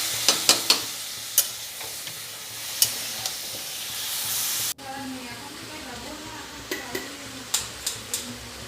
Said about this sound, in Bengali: এটা ভালো করে নেড়ে চেড়ে মিশিয়ে ভালো করে কষে নেবো।